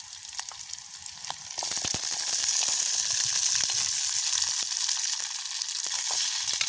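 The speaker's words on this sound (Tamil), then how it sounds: "எல்லாத்தையும் போட்டு வதக்குவோம் இதோட நாங்கள் துப்புராகி கழுவி வச்சுக்கிற வெங்காயத்தையும் போடுவோம்" Onions with green chillies sautéing in a pan for a village-style Sri Lankan dish, a steady hiss that jumps louder after a couple of seconds and keeps crackling with scattered stirring clicks.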